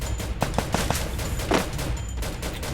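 M500 gunfire in the mobile game Free Fire, with a quick run of sharp shots close together and a louder blast near the middle, set against a dense, busy game background.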